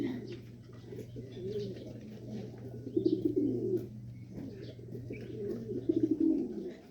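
Domestic pigeons in a Pangasinan loft coo in repeated low rolling phrases under faint chirps, with a steady low hum running beneath most of the scene.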